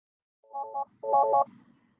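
Phone ringtone heard up close, two short bursts of bright electronic tones in a quick melodic pattern, with a faint room murmur after them.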